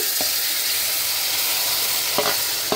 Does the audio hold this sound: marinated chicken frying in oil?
yes